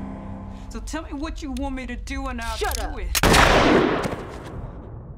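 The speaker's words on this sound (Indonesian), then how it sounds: "Arlen langsung menembak kepala wanita itu dengan pistolnya sebagai balas dendam" A pistol shot fired in a dramatic film scene bursts out loud and sharp after a stretch of voices, with a noisy blast that rings and decays over a second or so.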